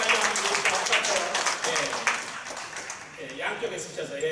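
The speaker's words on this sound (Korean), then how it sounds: "뜨거운 박수 한번 해주시고요" Applause from a congregation at a Korean Presbyterian church commemorative worship service, a steady wash of many hands clapping throughout, with a person speaking over the top.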